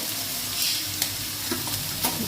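Constant hissing sizzle of tomatoes frying in a pan with salt and turmeric, with occasional scraping stirs and light clinks, close and steady.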